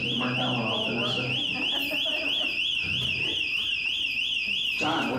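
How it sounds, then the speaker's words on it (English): Emergency exit door alarm going off during a monthly maintenance check, a loud, continuous warbling siren tone that rises and falls rapidly, with people talking underneath. "Alarm will sound."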